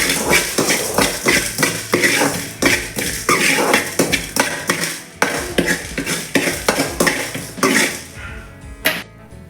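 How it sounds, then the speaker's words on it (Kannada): Cumin seeds and pepper stirred while frying in a pan for Mangalore-style mushroom sambar: close, busy scraping and clinking strokes repeat rapidly and steadily, with a faint crackle underneath and no talking. "ಸ್ವಲ್ಪ ಪೆಪ್ಪರ್ ಫ್ರೈ ಮಾಡಬೇಕು ಚೆನ್ನಾಗಿ."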